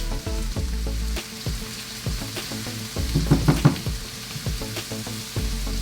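Onion and garlic sizzle in a pan for a butternut squash pasta, with steady frying crackle and repeated clinks and scrapes of a utensil stirring, no voices.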